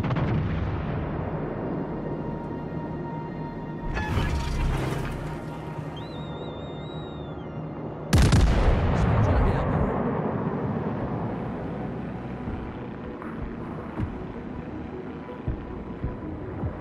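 Naval gunfire in the World of Warships: Legends game, a heavy boom near four seconds and a louder blast at eight seconds, followed by a long rumbling tail over steady background noise.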